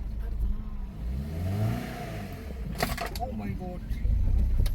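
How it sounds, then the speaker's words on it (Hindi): A car passes on a narrow village road, its engine rising and falling close by as it squeezes past, with people talking over the engine and some rattling and clatter toward the end. "गाड़ी आ गई आगे से भाई, इसको साइड दे"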